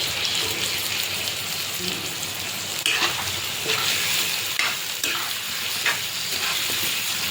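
Chicken pieces fry in a pan with ginger-garlic, a loud continuous sizzle with occasional stirring scrapes and crackles, close and steady with no talking.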